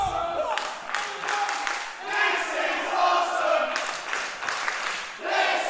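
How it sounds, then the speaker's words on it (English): Wrestling crowd at a Wednesday Night Wrestling show, a loud sustained mass of voices chanting and cheering with bursts of clapping, roaring steadily throughout with swells near the middle and end. "You can't disagree with the crowd here on Wednesday Night Wrestling."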